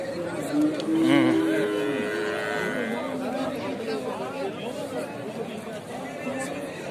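Oxen lowing amid a busy livestock market in Kattakurgan, Uzbekistan, with crowd chatter and voices talking throughout; a louder low moo stands out near the start.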